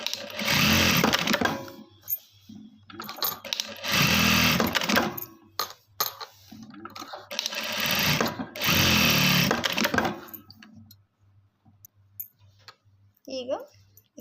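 A sewing machine fires off short stitching bursts on marked dots, each burst running a second or two, with quiet gaps between them. The bursts are close and clear, and a person speaks briefly near the end.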